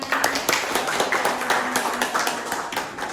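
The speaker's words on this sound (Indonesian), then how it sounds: "beri applause dulu, tepuk tangan" Classroom applause from students, hands clapping in a dense, continuous patter that stays steady throughout, with a faint tone running underneath.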